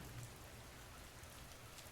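Gentle drops of light rain fall on a roof, making a quiet, uniform patter that carries on alone without any talking.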